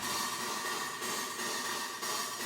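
A dense, hissy reverb tail from drum hits, processed on a parallel chain so only the reverb is audible, washes along steadily with faint pulses about once a second.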